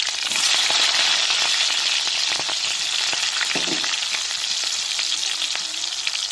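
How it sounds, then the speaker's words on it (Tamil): Green chilies and large onion frying in hot oil for brinjal potato rice, a loud, even crackling sizzle throughout with occasional stirring scrapes, close up and without speech. "ரெண்டு பச்சை மிளகாய் சேர்த்துக்கிறோம் பெரிய வெங்காயம் சேர்த்துக்கிறோம்"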